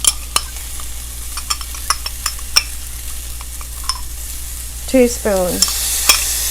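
Garlic stirred in a hot pan for Spanish-style Mexican rice, with scattered spoon scrapes and clicks over a low sizzle, then a brief voice near the end.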